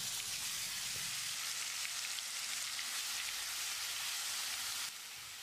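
A ground paste of onion, garlic and green chilli hits hot oil with mustard seeds and cumin for a garlic tomato chutney, giving a loud, steady, dense sizzle that drops in level near the end.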